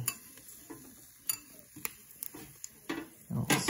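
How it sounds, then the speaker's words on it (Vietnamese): Utensils clink and scrape against a bowl while scallion oil is stirred into a mixture, a quiet run of irregular taps and knocks that ends in a louder clatter. "bây giờ mình trộn lên"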